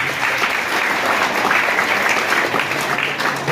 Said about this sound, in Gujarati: એના માટે પણ જોરદાર તાળી.